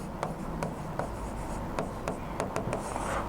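Pen or marker writing out a maths equation on a board, a steady scratchy rubbing broken by short taps and stroke ends over about three seconds, close and clear with no talking.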